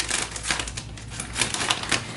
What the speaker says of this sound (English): Looks like I'm going to need a pair of scissors